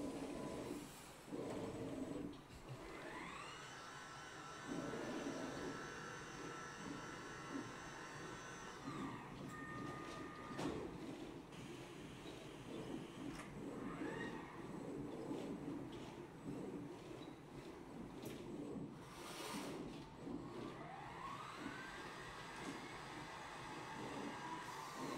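A Zund Q-Line dual-beam digital cutter runs steadily, with whirring motors, rising and falling servo tones and rhythmic mechanical clatter as both beams work at once, moderately close with no talking.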